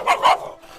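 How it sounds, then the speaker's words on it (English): A dog barks near a group in a school setting, a couple of quick yips early on, then a sharp loud bark at the very end, with background noise throughout. "Bro, why you brought a dog with you?"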